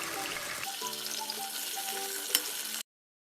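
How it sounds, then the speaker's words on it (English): Beef frying in a saucepan, a close steady sizzle with soft crackling and a faint background tone, one sharp clink near the end before the sound cuts off. "saucepan, let's fry the beef"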